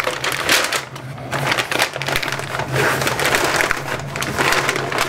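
Smoked beef being wrapped tightly for a pellet smoker, giving close, continuous crinkling and rustling of wrapping material with a low steady hum underneath.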